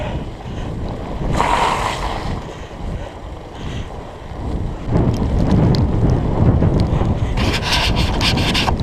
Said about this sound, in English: We're gonna have to do Little water crossing